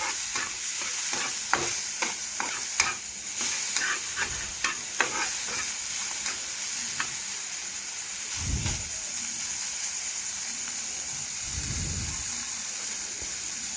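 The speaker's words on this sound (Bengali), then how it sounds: "একবার আমি নাড়াচাড়া করে নিচ্ছি, উল্টে নিচ্ছি।" Pointed gourd (potol) sizzles in a frying pan in a continuous crackling hiss, while a spatula stirs and flips the pieces with a run of sharp taps and scrapes, followed by a couple of low thuds.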